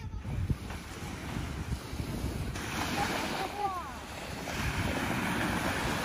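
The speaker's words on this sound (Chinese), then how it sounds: "浪的声音" Sea waves washing onto a beach by a seaside Guanyin statue, a steady roaring wash with gusty wind buffeting the microphone and faint voices in the background.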